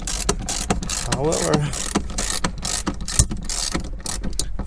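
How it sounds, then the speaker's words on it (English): An articulating ratchet wrench tightens bolts on a flood-damaged 2008 Porsche Cayman S, giving rapid clicking ratchet strokes in short bursts, with brief speech partway through. "let me find the wrench, and I'm gonna put those bolts completely"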